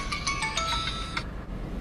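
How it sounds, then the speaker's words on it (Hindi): A phone ringtone rings loud and close, a quick run of bright repeated electronic tones over about a second before cutting off, with a steady low hum beneath. "फोन पे बज गया है"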